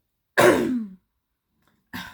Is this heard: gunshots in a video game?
no